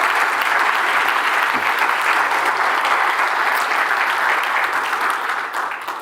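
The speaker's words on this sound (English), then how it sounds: "So just a round of applause for everyone, please" At a cardiac arrest symposium, a large conference audience applauds in a full, continuous wash of clapping that holds steady and fades slightly at the end.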